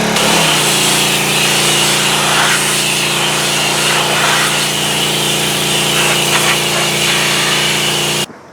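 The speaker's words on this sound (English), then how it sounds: "After putting the high pressure nozzle on, it actually started taking some of the concrete off" A pressure washer fitted with a high-pressure nozzle blasts hardened concrete off the ring gear of a concrete mixer, giving a loud, steady, close-up drone with a motor hum underneath that runs without a break until it stops abruptly at the end.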